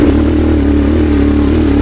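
A Yamaha TW200 motorcycle engine running rich, a loud, close, steady thumping drone with a pronounced low pulse, continuous throughout.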